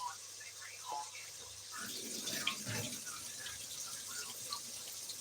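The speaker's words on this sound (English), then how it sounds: "Now I'm just trying to wash up my space where I was cutting" Tap water runs while a kitchen counter is washed down after cutting, a close, steady splashing and trickling stream under a voice talking over it.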